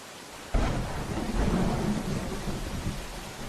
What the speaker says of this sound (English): Charlie, come on in out of the rain, would you?